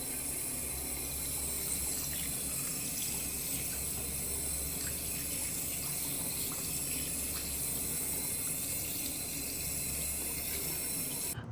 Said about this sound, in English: I just washed all of the two parts of the calipers, both sides